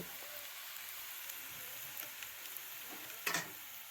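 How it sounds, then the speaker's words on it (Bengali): Onions frying in a pan for a spicy fish curry, giving a steady, faint, hissing sizzle with a few small pops and a brief clatter near the end. "পেঁয়াজটা আমার লাল লাল করে ভাজা হয়ে গেলে"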